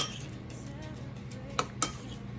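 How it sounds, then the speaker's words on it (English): Avocado being stirred in a bowl with lime juice, nacho prep: soft scraping of a utensil against a dish, then two sharp clinks near the end, close and fairly quiet. "let's give our avocado a quick stir"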